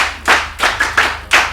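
Hands clap louder for children's show participants, about five sharp, close claps in a loose rhythm, with a faint low hum underneath.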